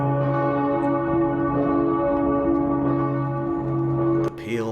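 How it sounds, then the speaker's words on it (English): Bells of Bamberg cathedral peal with a rich, sustained ring, their overlapping tones droning steadily and loudly for several seconds before a brief shift in the sound at the very end. "The peals of its bells, like a signaller of the impending apocalypse, were mesmerising to the assembled crowds."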